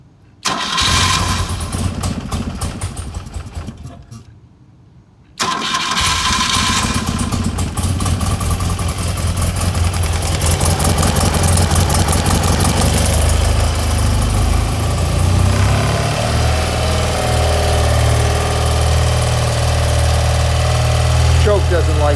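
A small engine with fuel and choke on cranks and starts, pauses briefly, then catches and settles into a loud steady idle running close by.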